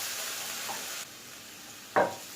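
Vegetables cook in a pan for fried rice, a soft sizzle in the background with a brief stirring scrape, then one sharp loud sizzle burst near the end.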